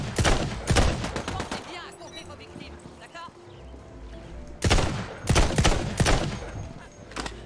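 Sniper rifle shots ring out in Tiny Tina's Wonderlands, sharp loud cracks in two clusters with a quieter stretch of game sound between them.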